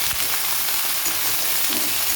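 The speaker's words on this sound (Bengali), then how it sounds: "সবজিগুলো একসাথে দিয়েছি ভাজা করে" Radish, potato, broad beans and eggplant frying together in a pan, a steady close sizzle with faint stirring scrapes throughout and no talking.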